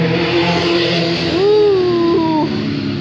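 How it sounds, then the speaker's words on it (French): A loud motorcycle engine roars past with a rising then falling whine, passing fast and close by over steady traffic noise. "Les motos, elles vont ultra vite. Hein. Elles font beaucoup de bruit."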